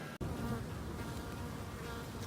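Honeybees buzzing around beehives, a dense steady drone from many insects close by, continuous after a brief dropout at the start.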